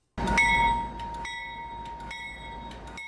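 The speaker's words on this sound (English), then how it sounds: "they sent a freight train locomotive to the rescue" A Union Pacific freight train locomotive sent to clear snowy tracks sounds a sustained, steady horn-like tone with rumbling underneath, loud at onset then holding evenly, no voices.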